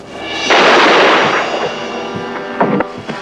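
A mine blowing up in an old film, a loud blast that erupts and rumbles for about a second, then fades into scattered crackling debris and smaller bursts.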